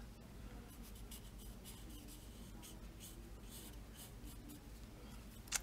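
A Copic marker rubs steadily across marker paper in soft, repeated scratchy strokes, faint and close, with a small tap at the end.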